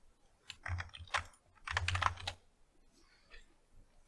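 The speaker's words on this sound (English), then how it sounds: "I don't know what I'm typing in" Quick bursts of typing on a computer keyboard during a hacking exercise, clustered key clicks in two main flurries with short pauses, close and fairly quiet, with no talking.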